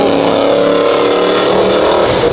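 Ford Mustang engine at a Cars & Copters car show, a loud close growl sustained for about two seconds with no talk over it.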